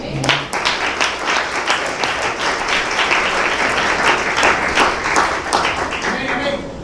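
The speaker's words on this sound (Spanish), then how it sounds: "Denle palmas a Dios." A church congregation claps during a sermon, loud sustained applause with distinct sharp hand claps popping through the dense wash, while voices carry underneath.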